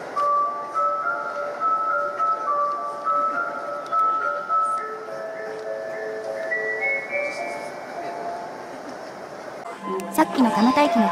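A station departure melody plays on a busy train platform at Kamata station, a steady, fairly loud electronic tune with a monotonous, darkish line over crowd murmur, ending in a burst of platform noise.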